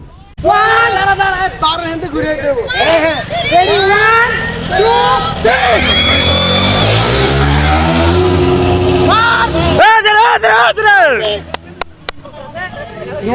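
Yamaha MT15 V2.0 and TVS Apache RTR 160 4V motorcycles racing on an open road, engines revving and rising in pitch through gear changes, loud and close, with wind rush and voices talking over the run.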